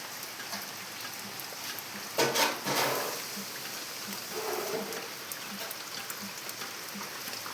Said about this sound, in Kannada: ಮಳೆ ಹನಿತಾ ಇದೆ.